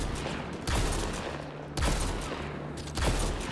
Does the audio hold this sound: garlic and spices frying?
no